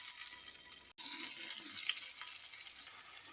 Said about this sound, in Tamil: எண்ணெய் காஞ்சதும் நம்ம அந்த வாழைக்காயெல்லாம் அடுக்கி ஃப்ரை பண்ணிக்கிட்டாவே போதும்